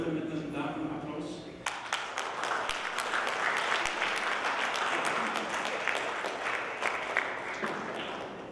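An audience at a Ukrainian–Crimean Tatar community event in Suriname bursts into sustained applause: many hands clapping densely and evenly for several seconds, with no talking over it.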